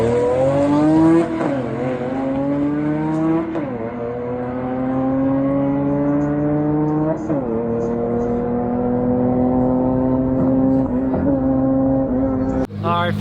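Rear-wheel-drive mid-engine Honda Integra race car with a Honda V6 on nitrous accelerating down the quarter mile, engine note climbing steadily through several gear changes, loud and close with a sharp cut at the end.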